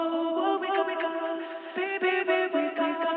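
A soloed vocal return channel with a very short delay, EQ'd to widen an afro house remix vocal, plays alone as a steady, bright, smeared sustained tone with shifting syllable-like pulses throughout.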